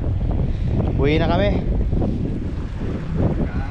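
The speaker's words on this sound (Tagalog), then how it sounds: "lumakas yung hangin" Strong cold wind roars across a fishing boat at sea, a loud buffeting rush that fills the microphone throughout, with a person speaking briefly through it.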